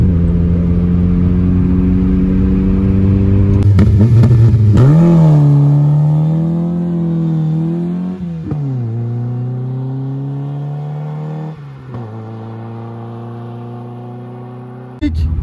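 A modified Peugeot 106 revs hard up close, its loud engine note rising, holding and dropping through several throttle blips over a steady idle.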